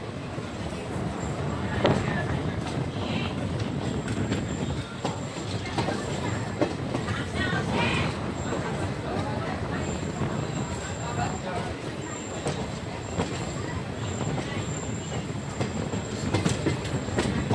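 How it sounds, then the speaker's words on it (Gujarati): A WAP-7 electric locomotive and train at Porbandar railway station, with a loud, continuous rumble and rattling clickety-clack of rail cars and occasional brighter squeals, steady and close throughout. "આ વેબ 7 લોકોમોટિવ છે."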